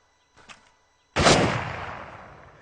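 A single loud gunshot in a movie scene lands close and sharp, then rings out in a long decaying echo, after a few faint clicks and small sounds.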